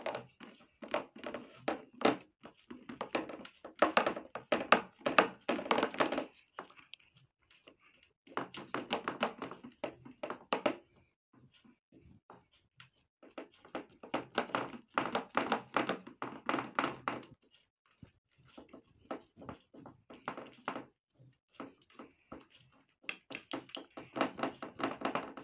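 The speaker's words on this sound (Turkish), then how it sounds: "Şöyle hamuru açıyorum." Pizza dough is pressed and rolled out by hand, giving bursts of soft thuds and taps against a wooden surface that come in clusters separated by short pauses, close and quiet.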